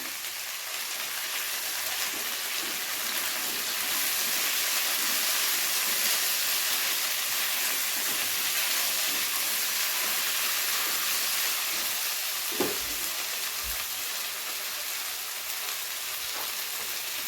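Tomatoes and spices fry in a pan for a soybean curry, giving a steady, close, broadband sizzle that hisses evenly throughout with a brief clink near the end.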